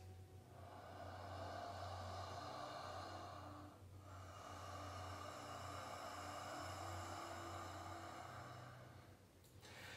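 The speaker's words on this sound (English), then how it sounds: "an audible whisper quality sound to your breath." Slow ujjayi breathing in yoga, a soft whispering rush of air through a constricted throat, one long breath with a brief pause before the next, close and quiet with no talking.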